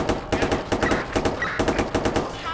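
Rapid bursts of automatic gunfire in Watch Dogs 2 rattle on without pause, steady loud volleys close by with no voices over them.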